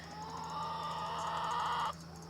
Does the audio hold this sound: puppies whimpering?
no